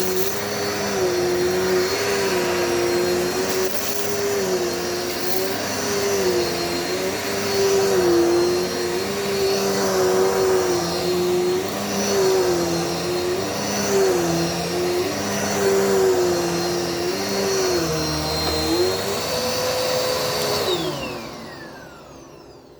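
Dirt Devil multi-surface vacuum cleaner running at close range, a loud, steady whining roar with a wavering tone that holds throughout and then spins down at the end, no voices.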